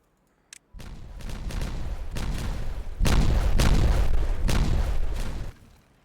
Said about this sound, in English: And then we detonate.